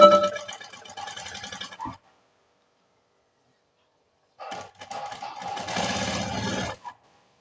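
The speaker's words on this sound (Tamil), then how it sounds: "நான் பொறுமையாக அப்படியே தையல் போட்டு எடுத்துக்கிறேன்." A sewing machine stitching piping thread runs in two steady bursts, about two seconds of whirring, a pause of silence, then a longer run that stops abruptly.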